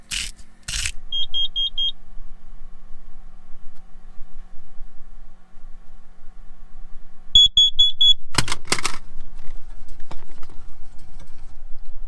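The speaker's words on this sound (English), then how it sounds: "I don't know what that alarm is about, so we're going to cook outside." An electronic alarm beeps in quick repeated bursts indoors during camping and cooking in the Basque mountains, two clusters separated by a long quiet hum, with clatter of handling nearby.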